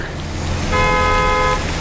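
A car horn sounds one sustained honk from a vehicle trying to pull in, loud and close, lasting under a second over a low background of traffic and rain.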